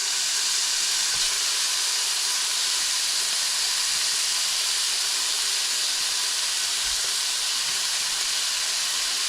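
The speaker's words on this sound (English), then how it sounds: "we're just going to brown up the meat" Ground beef browning in a pan for beef enchiladas, a steady close sizzle and hiss that runs evenly throughout with no talking.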